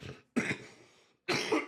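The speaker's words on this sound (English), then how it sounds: "I promise I didn't make myself cough at my own lame joke." A man coughs three times in quick succession, close and fairly loud, the middle cough trailing into a softer breathy tail, with short silences between.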